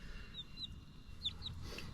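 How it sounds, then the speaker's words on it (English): Three Australorp hens give soft, high clucks and chirps while preening in a backyard run. The calls come in a few quick pairs, fairly close but faint, over a low background rumble. "There's the update on the 3 Australorps, just preening themselves and hanging out."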